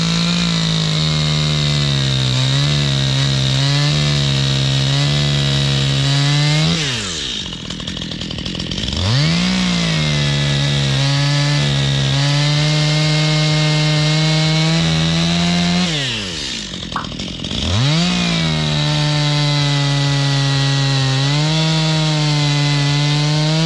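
A Stihl chainsaw fitted with a freshly sharpened chain cuts through a fallen tree at a kids' dirt bike track. It idles steadily, then revs hard and bogs twice into the wood before settling back to idle. The engine is close and loud, and nobody speaks.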